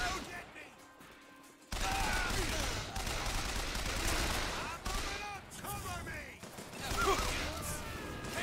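Turret gunfire in the BioShock Infinite video game: dense, loud bursts of rapid shots and crashing impacts, sustained almost throughout after a quieter opening, with a voice talking over the barrage.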